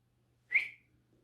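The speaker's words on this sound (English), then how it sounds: "When we want to attract attention in English, we should never whistle." A single short, sharp whistle blown by a person to attract attention, rising quickly and fading within half a second, alone against near silence with a faint low hum.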